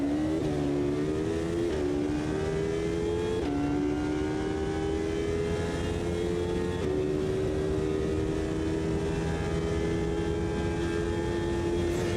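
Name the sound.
racing car engine in video game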